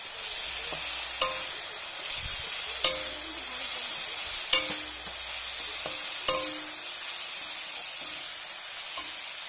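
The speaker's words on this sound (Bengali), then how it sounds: "সবজিগুলো ভেজে নিয়েছি" Vegetables sizzle in a pan in a village kitchen as a utensil scrapes and stirs them, a continuous frying hiss broken by about four sharp clanks at regular intervals.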